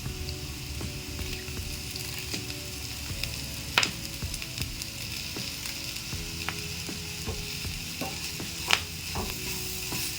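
Curry leaves frying in hot oil for a broad beans curry, giving a steady, moderate sizzling hiss with scattered small pops and crackles, heard close without any talking.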